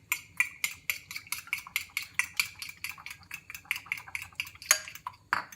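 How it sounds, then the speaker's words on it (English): A utensil scrambles an egg in a pan, with quick rhythmic metallic scrapes and taps against the pan, about twenty strokes at an even pace, faint and close. "Now we gotta start scrambling."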